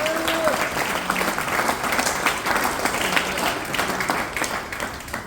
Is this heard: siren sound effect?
no